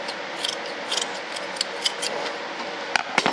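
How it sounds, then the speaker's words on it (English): Scissors snipping and rasping through an old sock fabric, a close, continuous scratchy rustle with small ticking clicks scattered through and a couple of sharper snips near the end. "you gotta take a pair of scissors and cut some of this sock off"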